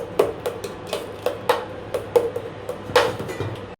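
Tomato curry stirred in a pot on low heat, a spoon tapping and scraping the pot in a regular series of about a dozen light knocks, close up with a faint background hum.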